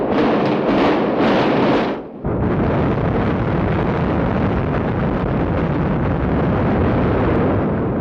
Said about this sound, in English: The old Commonwealth Building goes out with a bang.